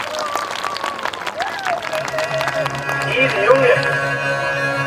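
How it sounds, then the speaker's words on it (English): Audience at a school annual function clapping for nursery class boys ahead of a Lungi dance, a scattered patter of hands mixed with children's voices and music starting up. "Big clapping for nursery class boys."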